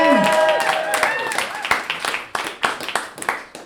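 A comedy show audience giving a round of applause, loud crowd clapping that fades into scattered, irregular claps, with musical tones and voices mixed in at the start.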